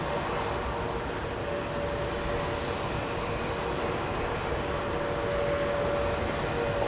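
A Lufthansa airliner departing London Heathrow runway 27R for Munich, a fairly faint, steady jet engine roar with a thin constant whine, continuous and even throughout, with no voices.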